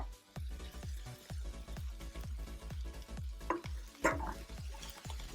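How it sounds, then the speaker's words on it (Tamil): Mint leaves are sautéed in oil in a pan for mint chutney, with a soft, continuous sizzle under a steady rhythm of low spoon or spatula knocks against the pan, close by and with no talk. "எண்ணெயிலே இதை நல்லா வதக்கி விட்டுக்கோங்க"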